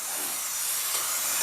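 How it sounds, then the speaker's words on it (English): Cooking spray hisses steadily into an 8x8 baking dish, one continuous close spray alone without talk. "But I want to spray"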